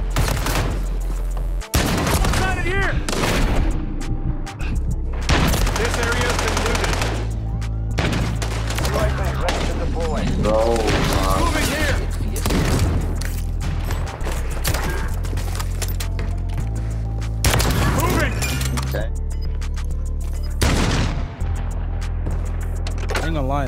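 Bursts of video game gunfire rattle over a constant low engine-like drone, with people talking excitedly throughout and the shots coming in scattered clusters.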